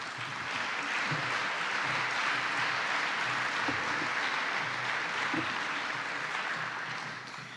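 Steady applause from a studio or theatre audience welcoming a paleoanthropologist from the Collège de France, a dense even clatter of many hands that holds for several seconds and then starts to thin.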